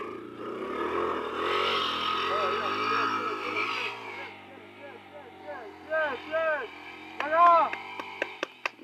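A motorcycle engine revs up and rises in pitch close by, with a voice talking over it and sharp mechanical clicks and knocks near the end.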